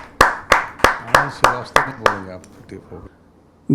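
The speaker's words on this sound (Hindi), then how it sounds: "अगले कवि के रूप में आनंद दीक्षित जी का मैं स्वागत करता हूं आप सबकी जोरदार तालियों के माध्यम से।" At a Hindi kavi sammelan poetry gathering, an audience welcomes the next poet with loud rhythmic clapping: seven strong, evenly spaced claps that fade as a voice begins speaking.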